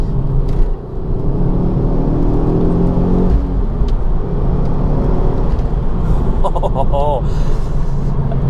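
A Ford Focus RS Mk2 engine while driving, a steady low rumbling drone from inside the car, with someone talking over it for most of the time.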